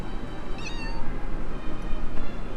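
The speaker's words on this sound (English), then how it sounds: "I can hear you, cat!" A cat meows in the SNES game SoulBlazer, a single short synthesized mew standing out over a steady game music background, with no voices.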